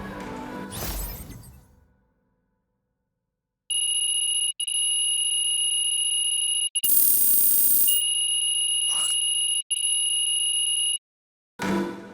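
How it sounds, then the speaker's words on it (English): An alarm clock rings in the NBA 2K26 basketball video game, a steady, loud electronic beeping tone that stops and restarts several times after a crash-like noise and a silent pause. "What, you hit the snooze on your alarm clock, Lazar?"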